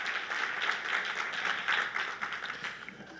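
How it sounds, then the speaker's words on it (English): Audience applause for a youth chorale at a city's State of the City address, a steady patter of clapping heard faintly from a distance. "I want to also give a round of applause for our youth chorale."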